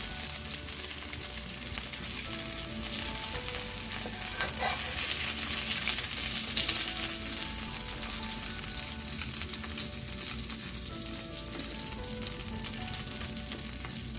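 Meatballs fry in a pan of oil with a loud, continuous close-up sizzle and crackle, and a slotted spoon occasionally clinks as pieces are lifted out.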